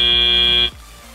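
A loud, sharp electronic buzzer sounds at the end of an FTC robotics match at a Florida state championship, a steady shrill tone lasting under a second before cutting off to quieter arena background.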